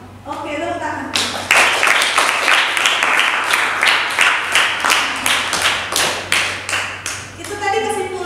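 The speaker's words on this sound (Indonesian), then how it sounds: "tepuk tangan" Students in a mathematics classroom clap together after a classmate's summary, a burst of many hands in a fairly steady rhythm lasting several seconds, with talk before and after.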